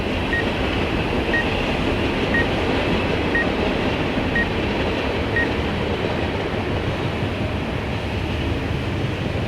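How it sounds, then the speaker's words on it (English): A train rumbles steadily past, continuous and loud, with a faint regular high tone repeating about once a second early on. "You can hear that train going past."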